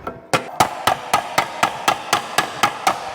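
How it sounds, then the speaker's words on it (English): Metal hammer strikes on a tuck in a sheet metal panel, shaped by hand with the fatter end of the hammer, land in a steady, evenly spaced series of about eleven sharp, close, ringing blows. "So now that tuck, we hammer out using the little bit fatter end."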